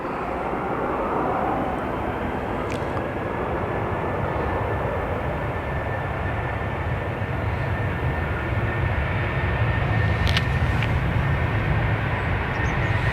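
A Ryanair jet on its takeoff roll from runway 10 right at Dublin Airport, a loud continuous engine roar holding steady and broadband throughout, with no voices over it.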